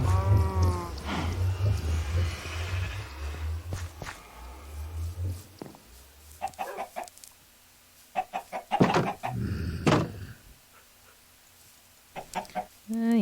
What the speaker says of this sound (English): chickens love each other very much. And then chickens make more chickens